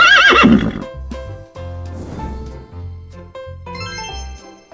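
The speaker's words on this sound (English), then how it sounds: "Horse." A horse gives a loud, close whinny at the start, its shrill wavering neigh followed by softer snorts and muffled hoof sounds.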